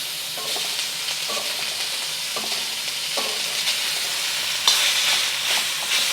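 Bacon sizzles loudly in a pan of fried rice, a steady crackling hiss with periodic scraping stirs of a utensil, close and continuous with no talking.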